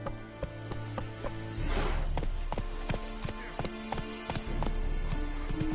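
Hooves clip-clop in a quick rhythmic gallop as a horse runs on the road to Novigrad in The Witcher 3, steady and fairly close with a rushing swell partway through.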